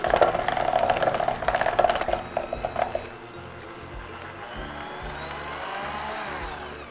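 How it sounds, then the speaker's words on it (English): Electric mixer running on low speed to blend applesauce into a whoopie pie batter, a busy whirring churn for about three seconds that then drops to a softer, steady motor hum. "Mix the applesauce on low until it is incorporated."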